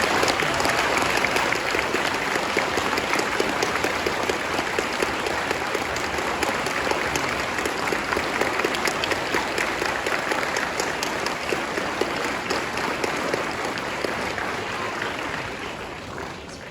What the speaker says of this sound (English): Wesley, would you please stand and let's give a round of applause.